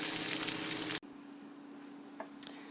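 A seared beef chuck roast sizzles loudly in a pan, the steady hiss cutting off abruptly about a third of the way in and leaving a quiet hum with a few faint clicks.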